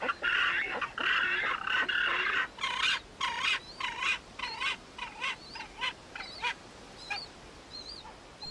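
Penguin chicks beg noisily for food, a dense chorus of loud squealing cries at first, then a run of sharp, evenly spaced peeping calls close by.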